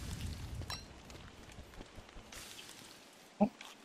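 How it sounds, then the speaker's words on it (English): Soft, steady patter of nighttime rain in the video game Don't Starve Together, with scattered drops, faint and even, interrupted near the end by a brief louder knock. "It's also raining."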